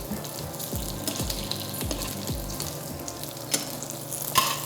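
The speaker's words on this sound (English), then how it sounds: "You can hear that sizzle." Bacon sizzling and crackling in a pan, a steady close hiss with light scraping and popping, no talking.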